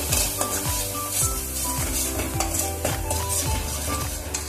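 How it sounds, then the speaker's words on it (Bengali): Spice masala with ground coriander and turmeric being sautéed in a pan, a spoon scraping and stirring in a repeated rhythm over a continuous close sizzle. "এবার মশলাটা ভালো করে কষিয়ে নেব"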